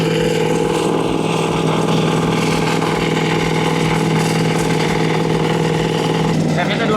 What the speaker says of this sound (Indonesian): Sekarang saya gunakan Satari yang sudah ikut dalam pembelian untuk mencacah tanah.